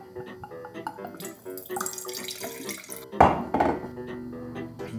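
Wine pours through a wine aerator outdoors in a backyard, giving a short gurgling splash that rises suddenly and then trails off, preceded by soft handling clatter.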